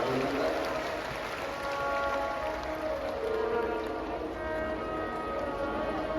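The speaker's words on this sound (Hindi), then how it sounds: "तो क्षेत्र की एक बार जोरदार तालियां करेगा स्वागत करना" A crowd applauds loudly at a Shiv Mahapuran katha in Jaipur, a rain-like wash of many hands, steady and sustained, with sustained musical or vocal tones ringing over it.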